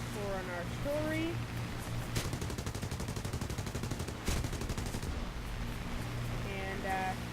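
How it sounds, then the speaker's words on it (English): Anti-aircraft gunfire in War Thunder, a dense stream of rapid popping bursts with two heavier thumps, running under a steady hum, with a whistling tone at the start and end. "No, that's just anti-aircraft guns."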